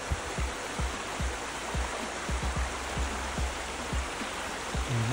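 A river rushes steadily at a trail river crossing on the Te Araroa route between Matakana and Kourawhero, a loud broadband wash with occasional low thumps from nearby.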